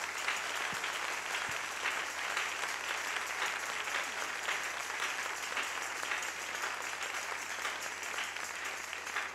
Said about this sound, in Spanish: ¿Por qué no le damos un aplauso al Señor Jesús?